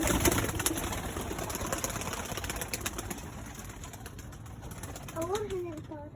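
Iraqi red pigeons, mother birds in a loft, coo near the end over a busy background of chirps and flutters, with a person talking over the birds.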